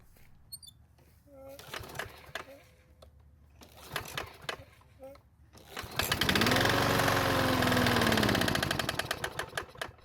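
Clicking and handling noises, then a lawn mower's small engine starts on a pull cord with a steady buzzing roar that runs for a few seconds and gradually sputters down, with slight knocking as it dies.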